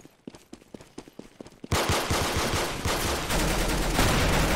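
Roblox gunfire rattles in quick, evenly spaced shots at first, then gives way to a dense, louder wall of rapid automatic fire that carries on to the end with no talking.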